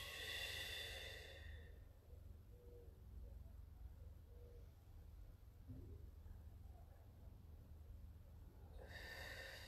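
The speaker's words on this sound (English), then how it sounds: "taking nice deep breaths in through the nose" During a Pilates session, a person takes slow deep breaths, in through the nose and out through pursed lips, as soft, quiet airy breaths against a faint background.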